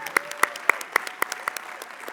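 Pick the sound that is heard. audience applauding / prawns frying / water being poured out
audience applauding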